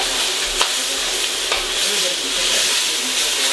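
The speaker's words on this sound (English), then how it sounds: "Give that a stir through, see what it looks like." Shrimp lo mein is stirred in a frying pan with a spatula, giving a loud continuous sizzle with scraping pushes of the spatula through the noodles, close and alone.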